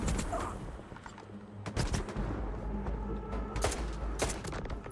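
Bursts of gunfire from STALKER 2 crack out in repeated sharp shots and short volleys over a low rumbling game background, fairly close and steady throughout.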